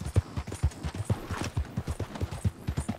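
Horse hooves clip-clop in a steady, brisk rhythm along a trail in Red Dead Redemption 2, each hoofbeat close and distinct, with a faint snort or whinny in places and no talking.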